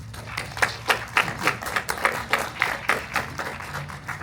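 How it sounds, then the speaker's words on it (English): Steady applause from a crowd, many hands clapping at once in a dense, continuous patter that carries on evenly throughout. "So one more round of applause for Celtic Sessions"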